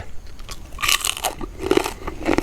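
Crunchy crispy fried pork leg is bitten into, giving a few loud, close crackling crunches followed by chewing, with no talking.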